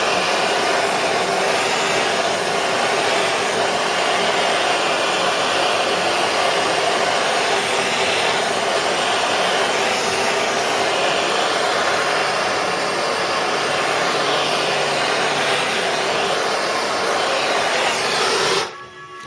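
Battery-powered wire brush scouring paint from the spot-welded edges of a Ford Cortina GXL body under restoration, a steady loud whirring buzz held for about nineteen seconds before it suddenly stops.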